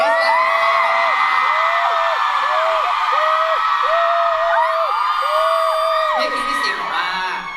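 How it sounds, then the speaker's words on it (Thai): A loud crowd screams and cheers continuously for Thai actors Krist and Singto at a live morning show event, the shrill wall of voices sustained throughout with whoops rising over it. "ขอเสียงกรี๊ดดังๆอีกสักครั้งให้กับคริสและ"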